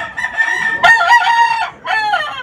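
A bishop rooster, kept among three bishop hens, gives two loud, close crows, the first long and wavering, the second shorter after a brief pause, alone with no talk.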